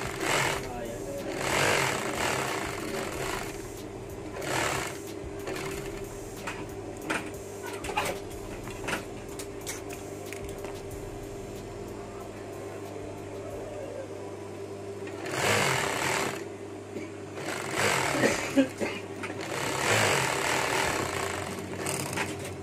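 A sewing machine sews a chain stitch on a round-neck t-shirt, running in short intermittent bursts with louder runs near the middle and end, over a steady background hum while a person talks.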